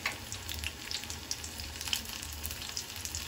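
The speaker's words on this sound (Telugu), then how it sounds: "ఇలా ఒక సైడ్ ఫ్రై అయిపోయిన తర్వాత రెండో వైపు కూడా ఇలా తిప్పుకుంటే మనకి మంచిగా కాలుతాయి" Raw plantain bajji frying in oil in a small kadai, a steady, soft bubbling sizzle with fine crackles throughout, heard up close and alone.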